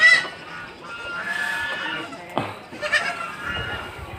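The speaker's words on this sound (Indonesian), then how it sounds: "Ini kambing-kambing besar, ini panjang." Goats bleating at a large goat and sheep farm in Rimbo Bujang, several wavering calls from nearby animals overlapping across the moment, with faint farm background and a little distant chatter.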